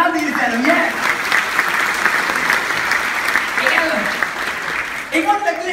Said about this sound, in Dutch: applaus voor jullie zelf, dames en heren.